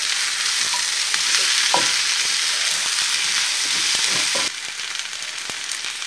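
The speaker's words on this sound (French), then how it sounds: "Et maintenant, on va ajouter nos pommes de terre. On va mélanger." Potatoes sizzle and fry in a pan with asafoetida for Indian-style potatoes as they are stirred, with scraping stirs over a constant hiss that drops slightly near the end.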